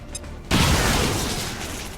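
A grenade explosion in XCOM 2 bursts suddenly after a brief quiet lead-in, a loud broadband boom with crackling debris that slowly decays over the next second and a half.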